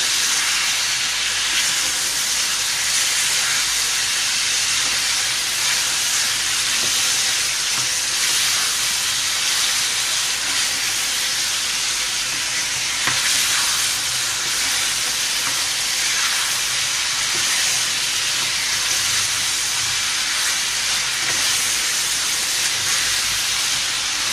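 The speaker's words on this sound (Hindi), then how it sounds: "अब अच्छे से हमने इसको भून लिया है लहसुन अदरक डाल के।" Chicken frying with garlic and ginger in a karahi gives a steady, loud sizzle and hiss that runs unbroken from start to finish with no voices.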